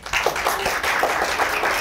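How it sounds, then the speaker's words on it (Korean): An audience at a talk on Panamanian coffee farming claps together in sustained applause, a dense patter of many hands at moderate distance. "박수 부탁드리겠습니다"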